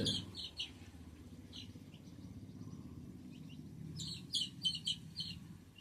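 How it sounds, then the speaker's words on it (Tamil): Guinea fowl and chickens pecking about on the ground, giving short, fairly faint chirps and calls in scattered bursts, with a cluster of sharper calls near the end over a low rustling background. "அந்த கிண்ணிக்கோழி ஒரு பக்கம் கொத்துது இங்கிட்டு இது ஒரு பக்கம் கொத்துது"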